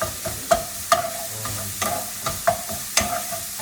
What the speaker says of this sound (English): look how we've browned the sausage here